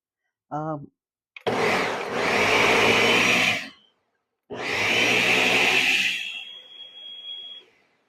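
Kitchen blender pulsed in two long bursts after a brief short blip, each run a loud steady whir that cuts off, leaving a faint high whine at the end.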